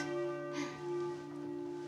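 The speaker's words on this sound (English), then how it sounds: "so now you've probably got the bell swinging enough" A church bell weighing 1.5 tons, swung by pulling its rope, rings with a sustained metallic tone that hangs and fades, faint and alone with a soft second strike near the end.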